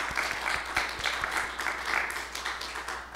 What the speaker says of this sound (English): Can we give all of those a round of applause as well?